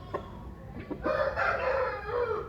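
A large white Oh Shamo rooster, a breeding male, crows once loudly and close, a harsh drawn-out call after a few short clucks.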